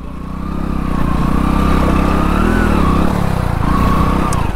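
Motorcycle ridden on a rough off-road track in Konkan, its engine droning loud and close with a steady revving hum that rises and dips slightly, a brief drop in pitch near the end, with no talk.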